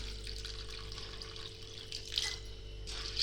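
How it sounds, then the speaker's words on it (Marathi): Chana dal being rinsed and rubbed by hand in water, a steady wet sloshing and swishing with brief louder splashes near the end, close and continuous. "आपण आता आहे ना ही चणा डाळ धुवून घेऊ"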